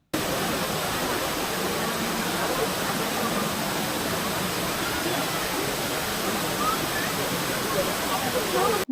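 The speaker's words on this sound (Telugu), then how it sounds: "వాటర్ సౌండ్ చాలా బావుంది." Steady, dense roar of the waterfall at Abbey Falls in Coorg, a continuous broadband rush of falling water that holds an even loudness throughout, close and alone.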